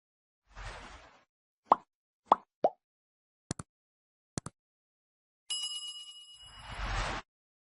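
Notification sound effects play in sequence: a soft whoosh, three short plops, two crisp clicks, then a ringing bell chime that ends in another whoosh, all in quiet surroundings.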